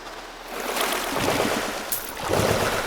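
Swimming through a river in a farming simulator game: close, steady splashing and sloshing water with a rushing, stream-like wash that swells and fades in a couple of surges, and no talking.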